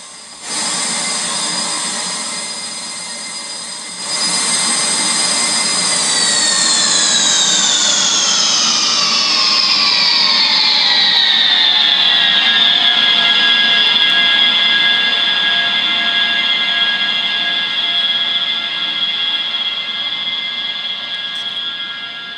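An Oberheim OB-Xa synthesizer patch holds a loud sustained chord, then the pitches glide smoothly downward together and settle into a steady tone, with noise modulation mixed in as a hissy wash beneath the notes.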